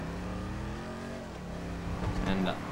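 Car engine in Grand Theft Auto 5 during a race, droning steadily with rising revs and a brief louder burst near the end, under a talking voice.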